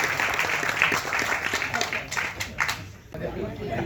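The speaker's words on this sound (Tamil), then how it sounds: "ஒரு பலத்த கைத்தட்டல் கொடுத்து வாழ்த்தும்" Audience applause at a Tamil movie audio launch event, a dense steady clapping mixed with crowd chatter that thins out near the end.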